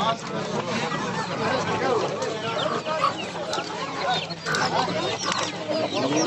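Many chickens cluck and squawk together at a busy poultry market in Nookat, with voices of traders talking underneath the constant fowl chatter.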